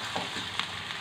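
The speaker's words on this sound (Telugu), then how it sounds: "ఫ్రెండ్స్ చూడండి, కరివేపాకు కూడా వేస్తున్నాను" Curry leaves crackle and sizzle in hot oil in a pan, a brief burst of steady frying hiss with a few sharper pops, close and moderately loud.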